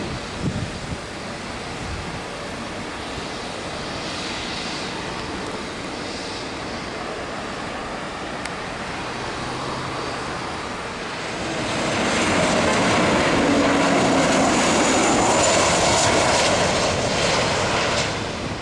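Airplane engine roaring during takeoff at Salvador airport, a loud continuous broadband rumble with wind noise that swells and grows louder in the second half as the aircraft passes near.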